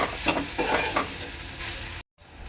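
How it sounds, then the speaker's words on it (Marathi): Ground masala is stirred into onions frying in a pan for a Maharashtrian cluster-bean dish: close, scraping stirs over a constant sizzle, cut off by a brief silence near the end. "हा मसाला आहे ना चांगला याच्यामध्ये मिक्स करून घ्यायचा आहे कांद्यात"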